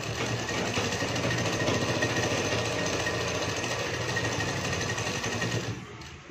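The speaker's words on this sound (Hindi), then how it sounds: "तो इसके बाद हम अपनी सिलाई स्टार्ट करेंगे यहाँ से" An electric sewing machine stitches a shirt collar, running as a loud, fast, continuous mechanical whir that stops near the end.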